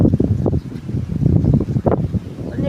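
Strong wind gusting hard during an afternoon storm in Wadia, heard as loud, uneven low rumbling buffets against the microphone that swell and fade in waves, with no speech.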